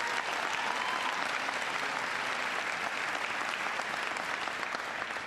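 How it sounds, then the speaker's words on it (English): A large town hall audience in New Hampshire applauds with a thick, continuous wash of clapping that holds steady and loud throughout. "Give her a big round of applause."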